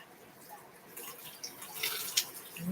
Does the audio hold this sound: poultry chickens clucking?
no